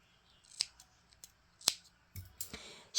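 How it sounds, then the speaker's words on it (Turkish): Scissors snip the end of cream knitting yarn during hand knitting of a two-needle seamless slipper, giving a few sharp, close clicks spread through a quiet moment. "Hemen şu ipimin ucunu da keseceğim"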